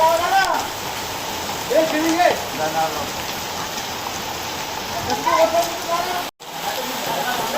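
Summer hailstorm in the Konkan, hail and rain pattering steadily on surfaces nearby, with people talking over the downpour at moments.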